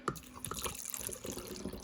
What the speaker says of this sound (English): pour in the kombucha